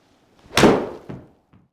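A golf iron strikes a ball during a custom fitting, giving one loud, solid thud that rings briefly and fades, followed by a softer thump and a faint final knock.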